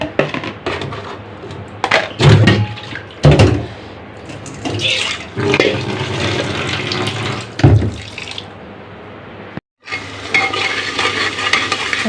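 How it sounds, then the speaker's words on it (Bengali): Tap water runs and splashes as raw beef is rinsed and turned by hand, with bursts of sloshing and a brief pause. "এত ধুয়েছি তাও রক্ত পানি হয়ে গেছে আবার ধুতে হবে"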